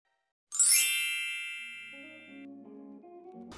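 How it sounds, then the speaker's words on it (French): GHD Platinum+ hair straightener gives a single bright electronic chime as it powers on, a clear ringing tone that fades, followed by a softer low melodic tail, close and alone in a quiet room. "Le GHD, quand on l'allume, il fait un petit bruit"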